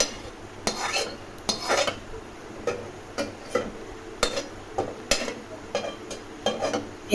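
Cooked urad (kalai) dal being transferred from a pressure cooker into another vessel: repeated close metallic clinks and scrapes of a ladle against the pot, spaced unevenly over a quiet background with no talking.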